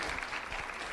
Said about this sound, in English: Let's have a round of applause for Juana Tomas.